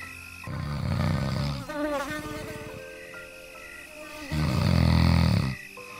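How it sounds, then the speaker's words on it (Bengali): Cartoon mosquito buzzing around a bear's head, a whiny wavering drone that rises and falls across the clip, loud and close, with a deep roaring or snoring-like bed swelling underneath at the start and end. "মশা এসে হাজির হলো আর ভালুকের মাথার চারপাশে গুনগুন করে ঘুরতে লাগলো"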